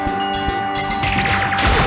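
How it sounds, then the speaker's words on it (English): A synthetic electronic doorbell chime rings out in a short repeating pattern, bright and close, over a busy soundtrack in the video game Danganronpa: Trigger Happy Havoc. "Ring this doorbell."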